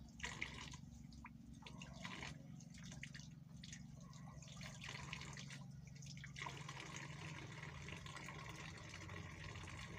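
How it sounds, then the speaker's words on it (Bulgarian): Faint water trickles and drips while a hose is rinsed in a container, soft irregular splashes over a low steady hum, quiet and close. "измиваме хубаво маркуча."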